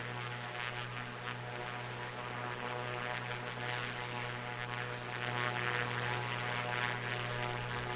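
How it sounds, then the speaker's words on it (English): Steady propeller drone of a Piper Comanche single-engine plane in a flight simulator game, an even humming engine tone with no talk over it. "And I gotta get back to actually flying the plane."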